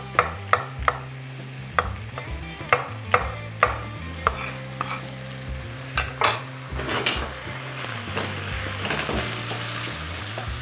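Thinly sliced brown onions stirred in a hot pan while preparing a fluffy omelette rice, a steady sizzle under regular scraping strokes of the utensil, close and fairly loud, with the frying growing denser toward the end.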